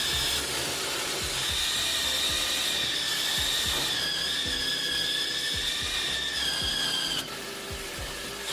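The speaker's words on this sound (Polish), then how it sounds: "W drugiej części zaczynamy od wiercenia otworu o średnicy 8 mm." A cordless impact driver drills an 8 mm hole, its motor whining loudly and steadily while rapid rhythmic impact knocks repeat underneath, with no talking.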